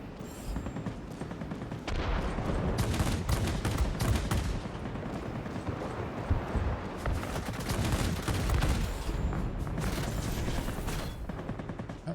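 Aircraft guns in the World of Warplanes video game, a Japanese Navy Air Force fighter, firing long dense bursts of rapid gunfire over a steady engine roar, loud and close throughout with brief pauses between bursts.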